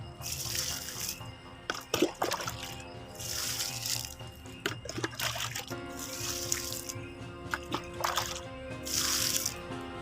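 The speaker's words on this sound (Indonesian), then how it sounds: "saya siram seperti ini" Water poured onto soil in a planting hole before planting durian, splashing in irregular bursts, with trickling and dripping between pours, close by and with no voices.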